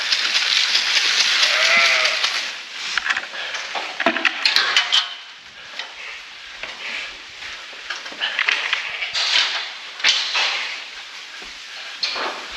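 Ewes bleating on a farm at feeding time: one close, clear bleat rises above a steady bright background of flock noise, then fainter calls and clatter follow.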